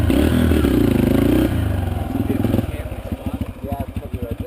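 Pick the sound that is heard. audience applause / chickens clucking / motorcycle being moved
motorcycle being moved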